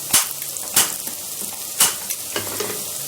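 Potatoes sizzle quietly in a pan while a utensil scrapes and stirs them in a few distinct strokes.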